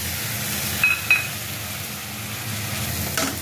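Ground spice paste of garlic, ginger, mustard and cumin sizzles and fries in hot oil with onions, a steady quiet hiss with a couple of faint clinks of stirring and no voices.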